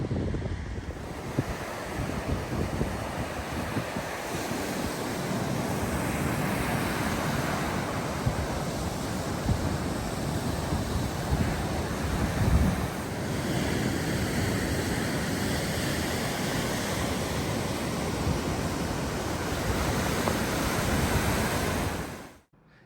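Waves from Lake Superior break steadily along the shore at Keweenaw Point in winter, a continuous broad wash of surf mixed with heavy wind buffeting the microphone, with no voices and a sudden cutoff at the end.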